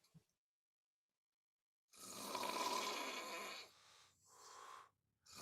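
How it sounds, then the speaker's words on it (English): A man snores loudly and raspily, with one long drawn-out snore followed by two shorter breaths after a quiet pause, close and clear with no talking. "His snore's a little lower."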